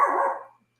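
A dog gives a single short, loud bark close by, which quickly fades into silence.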